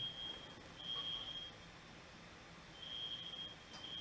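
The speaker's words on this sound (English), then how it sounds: "I hear a beeping noise. That might be one of our smoke alarms, but Wifey Sauce has it under control." A household smoke alarm gives faint, intermittent high-pitched beeps from somewhere off in the room, heard over quiet background hiss with no talking.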